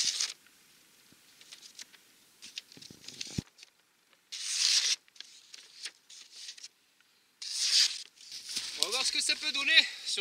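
A Wetterlings Bushman axe blade slices through paper in short, crisp tearing and rustling bursts separated by near silence, close to the microphone, with a person speaking between the cuts.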